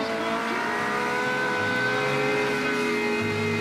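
A Ferrari 360's engine on a hard power lap around a test track, a loud, steady, high-revving snarl with layered harmonics that shift pitch as it changes gears mid-run, continuous and close with no talk.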